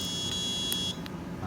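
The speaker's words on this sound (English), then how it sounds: "And the alarm is triggered." An electronic alarm in an embedded systems lab project sounds as a high, steady beeping tone, then cuts off abruptly partway through when cancelled, leaving a low background hum with faint speech.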